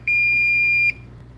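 Klein or Ideal circuit tracer sounding a single sustained high-pitched electronic beep, loud and close, lasting most of a second before cutting off into quiet room hum.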